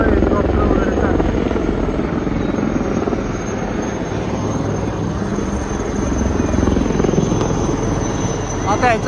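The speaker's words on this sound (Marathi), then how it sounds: "आता शो होणार आहे ना मागं, त्याच्यामुळे हेलिकॉप्टर वगैरे चालतं" A helicopter flies over an army open day show, its rotor and engine roaring loudly and steadily throughout at close range, with faint voices of the crowd mixed underneath.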